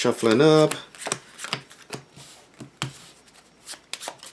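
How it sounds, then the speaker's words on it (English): Playing cards being shuffled for the tabletop game Tiny Epic Defenders, a quick riffle burst followed by a series of sharp card snaps and taps, close up, with a voice speaking at the start. "let's do some shuffling up"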